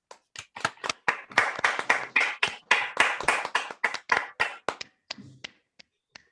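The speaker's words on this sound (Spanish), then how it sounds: "Con un aplauso, por favor." A small audience claps in welcome for two guest speakers joining a Latin music week event, a sparse, uneven run of distinct handclaps that swells briefly and then thins out to a few last claps.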